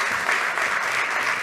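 Dense, steady audience applause fills a conference hall at an economics and social-innovation panel, loud and continuous without pause for the full stretch.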